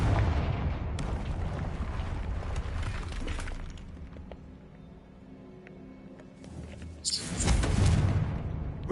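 Explosive Confringo blast spells in the Hogwarts Legacy video game, with booming bursts near the start and a louder blast around seven seconds over a rumbling background, no voices.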